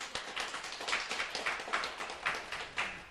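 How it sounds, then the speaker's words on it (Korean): Hands clap in a steady rhythm, a dozen or so crisp, close claps in quick succession at a fairly quiet level, with no voices over them. "하나님한테 박수 한번 치고 갈게"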